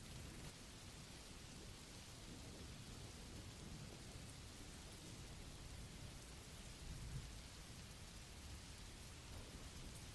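Heavy rain falls in a thunderstorm, a dense continuous hiss of drops with a low rumble of thunder swelling briefly near the end, steady and unbroken.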